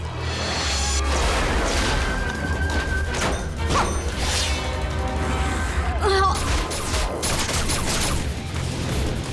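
Gunfire in an animated G.I. Joe Renegades cartoon episode, bursts of shots and crashing impacts over a loud action soundtrack, with brief voices shouting among the noise.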